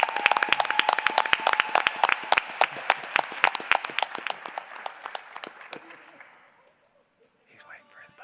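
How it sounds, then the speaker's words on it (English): An audience at a Board of Education meeting claps for kindergarten students from Parkview Elementary, a lively burst of sharp, rapid claps that thins out and fades to near silence within about seven seconds. "Let's give them a round of applause."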